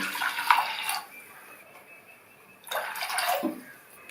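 Water pours onto powdered jaggery in two short bursts separated by a brief quiet pause, close by and moderately loud.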